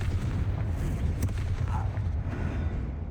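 A Confringo blasting spell goes off in Hogwarts Legacy, a booming explosion with a sharp crack over a steady low rumble of game sound.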